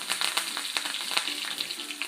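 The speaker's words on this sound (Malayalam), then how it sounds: "ഇതാ നമ്മുടെ കടുക് പൊട്ടി വന്നിട്ടുണ്ട് അതിലേക്ക് നമുക്ക് കരിവേപ്പില ചേർത്ത് കൊടുക്കാം" Steady hiss of hot oil with rapid, irregular crackles and pops of mustard seeds spluttering in a pan, close up, with no talking.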